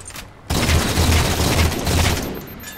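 Shotgun fire in Halo 4 multiplayer erupts in a loud, dense burst of gunfire and booms that carries on for about two seconds. No one speaks.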